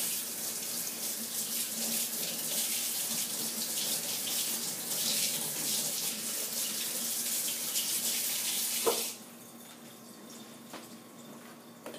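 Water runs steadily from a tap to rinse soap-making utensils, a close, even hiss and splash that stops abruptly near the end, followed by quiet room tone.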